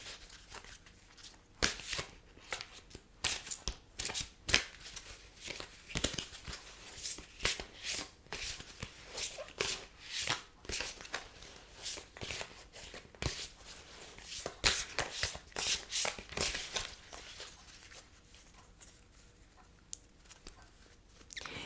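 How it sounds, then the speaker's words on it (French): Tarot cards being shuffled by hand in a quiet whispered setting, a run of soft, crisp riffling snaps and slides that come in bursts close to the ear. "Je vais rebattre les cartes."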